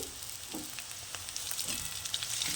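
Crushed ginger fries in hot oil in a pan, a steady close sizzle with a bright crackling hiss and occasional soft stirring scrapes, fairly quiet and with no talking.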